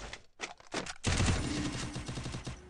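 Rapid automatic gunfire from a squad-based 4v4 shooter video game, starting with a few separate shots and then breaking into a sustained, dense burst of rattling fire that continues to the end.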